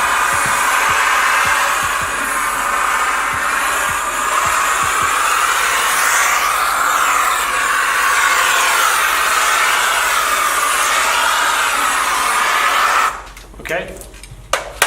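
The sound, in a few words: steamer run along car window tint film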